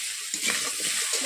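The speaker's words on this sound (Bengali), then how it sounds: "আমি খামালুর মধ্যে আমি শুধু নুন দিয়ে ভেজে নিচ্ছি" Kham alu (yam) pieces fry with salt in a wok over a low flame, giving a continuous close sizzle with soft stirring scrapes and small bubbling pops; no talk.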